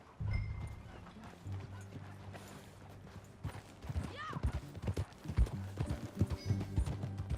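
Horse hooves clip-clop in an uneven rhythm in the video game Red Dead Redemption 2, quiet at first and then steady and closer, with a brief whinny partway through.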